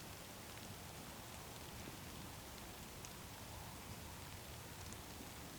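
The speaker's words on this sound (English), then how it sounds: "The rain's starting to come" Rain beginning to fall outdoors on a spring turkey hunt makes a faint, even patter that holds steady throughout, with no voices.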